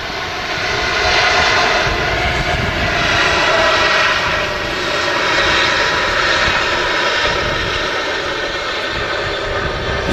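A Boeing 777-300ER arriving from Doha roars loudly and continuously as it touches down at Manchester Airport, a broad, steady jet-engine rumble with gentle swells.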